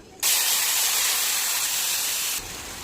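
Mustard and poppy seed paste tipped into hot oil tempered with nigella seeds and dried chilli gives a sudden loud, sustained sizzling hiss that cuts off sharply after about two seconds.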